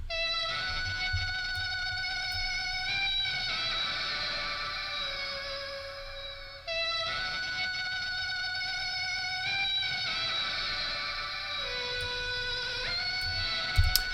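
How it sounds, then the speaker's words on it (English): A sung vocal run through Guitar Rig's Blues 74 distortion in a trap beat, with a bright, buzzy harmonic texture and sustained held notes in two long phrases over a low beat, loud and up front. "And so I got this distortion going on with this Blues 74 on this vocal, and it made it sound like this."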